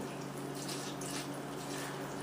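Coconut water is poured into a blender for a chocolate pineapple smoothie, a steady liquid splash and trickle that continues evenly and close by.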